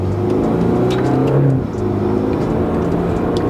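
A tuned BMW 330i F30 with the B4 engine, flashed to a stage 1 tune, gives a loud, steady intake and engine drone whose pitch swells and dips slightly, close up with no talking.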